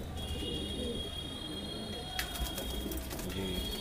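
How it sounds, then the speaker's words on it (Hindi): Madrasi pigeons give soft, low coos under steady background noise, with a burst of clicking and rustling partway through. "बहुत ताकतवर कबूतर रहते हैं"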